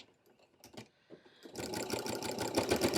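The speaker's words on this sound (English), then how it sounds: "We're going to back stitch" Sewing machine back stitching fabric for a DIY bag: a few soft clicks and handling noises, then the motor starts and runs in a steady, loud, close whirring rhythm for the final second and a half.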